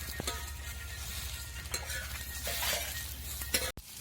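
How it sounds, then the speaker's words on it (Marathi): Onion, green chilli and garlic sizzle in a hot pan while a spoon scrapes and clinks against the metal. The stirring comes in steady strokes, close and at moderate loudness, with no talking. "आपला कांदा मिरची आणि लसूण मस्त परतलेला आहे"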